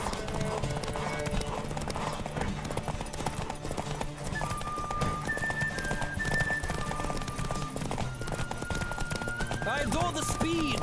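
A horse gallops hard through a race in The Witcher 3: Wild Hunt, its rapid hoofbeats loud and unbroken, with whistling tones, a brief whinny near the end and some speech mixed in.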